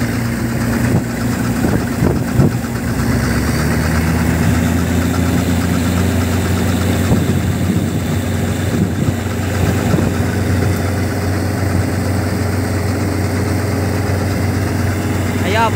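A new-model Claas combine harvester engine idles at a paddy harvest, a loud steady mechanical drone with rumbling vibration throughout, with a few knocks and clatters early on.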